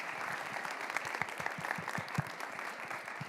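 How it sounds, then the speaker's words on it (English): A lecture audience gives quiet, distant applause for two speakers, individual claps audible in a steady patter that holds evenly throughout. "let's give them a round of applause"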